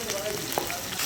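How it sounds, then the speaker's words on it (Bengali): Hilsa fish from the Padma and eggplant slices frying in bubbling oil, a steady close crackling sizzle throughout with a brief louder pop near the middle, no talk. "টকবক করছে তেলের মধ্যে মাছগুলো, ইলিশ মাছ, পদ্মার ইলিশ।"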